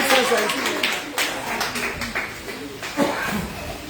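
A church congregation claps and cheers together in a dense, steady wash of applause, with voices mixed through it and a few sharper swells along the way.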